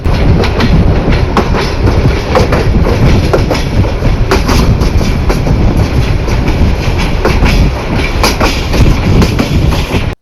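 Riding aboard the Mohanganj Express at night as it passes through a railway station in Bangladesh, the carriage gives a loud continuous rumble with rhythmic clickety-clack wheel beats and rattles close by, and no voices.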